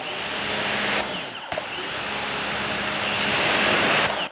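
A Parkside high-pressure washer sprays water in a loud, steady hiss, briefly cutting out and restarting near the start, then running continuously close up.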